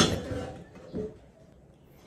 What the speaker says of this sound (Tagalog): Haluin lang natin para hindi mamuo yung ating pampalapot.